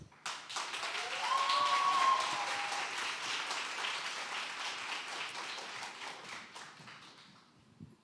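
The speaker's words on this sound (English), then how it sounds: "So please join me in giving them a round of applause." An audience at a youth presentation event applauds with a burst of clapping that builds quickly, holds steady for several seconds and then tapers off at moderate volume, with no talking over it.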